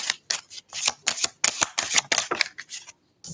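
Tarot cards are drawn and flipped: a quick run of crisp riffling, slapping card sounds close up, ending in a short silence.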